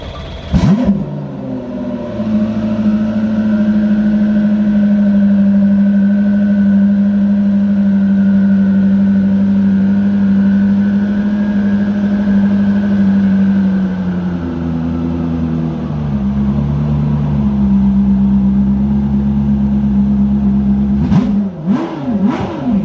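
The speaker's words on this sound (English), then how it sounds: "So it's the fastest revving production car engine in the world." A Koenigsegg CC850 engine is revved hard and loud for about twenty seconds, its tone climbing and then settling into a sustained high roar before dropping back. A few sharp blips follow near the end, with no voices.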